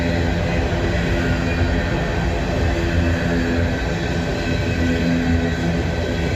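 An empty coal train returning from a power plant rolls past on the railroad, a loud, continuous rumble and clatter of wagons close by throughout, with no talking.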